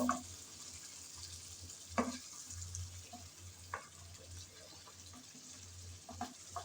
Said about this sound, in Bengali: ভাদালি পাতা দিয়ে আবারও সব একসাথে মিশিয়ে কষিয়ে নেব।